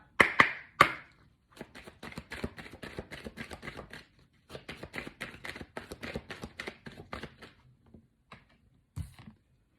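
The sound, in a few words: shuffling Gaia oracle cards for a draw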